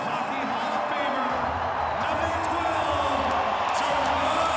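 Roaring ovation from a packed hockey arena crowd, a sustained wall of cheering and whooping that stays loud and steady throughout, with no one talking over it.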